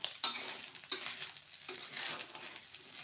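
Village-style fried rice (nasi goreng kampung) with shrimp-paste sambal sizzles steadily in a pan while a utensil scrapes and stirs it in three distinct strokes, close and crisp.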